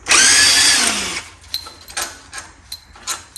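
A power tool loosens bolts on the head of a 19.5hp Briggs and Stratton engine: one sharp, high whine that winds down after about a second, then several light metallic clicks and taps.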